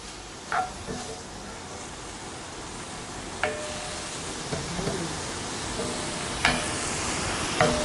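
Chopped vegetables sweat in a pan for a pasta sauce, giving a steady, fairly quiet broadband sizzle with a few sharp clicks and stirring knocks scattered through, and no talking.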